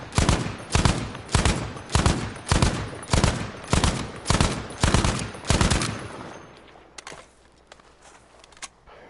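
Gunfire in the video game Battlefield 5: about ten loud, evenly spaced shots ring out in a steady rhythm over six seconds, then the firing stops and only faint, sparse clicks remain.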